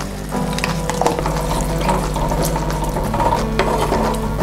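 A crab sizzles and crackles in a hot pan for Kerala crab roast, a dense, close frying sound with light scraping and clinking throughout.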